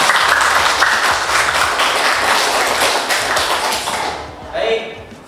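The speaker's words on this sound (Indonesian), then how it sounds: "Beri tepuk tangan untuk semuanya." A classroom applauds after group presentations, with dense, loud clapping from many hands that fades toward the end while voices mix in.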